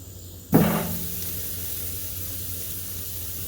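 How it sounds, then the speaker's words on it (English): Meat hits a hot barbecue grill with a sudden hiss that fades into a quiet, steady sizzle nearby. "It is sizzling, but not like loud or anything."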